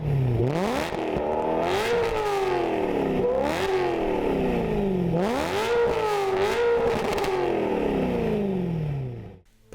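A BMW E92 M3's V8 revs repeatedly, rising and falling in several sharp climbs with a bright, high-revving howl and some mechanical clatter, loud and close, before cutting off near the end with no talk.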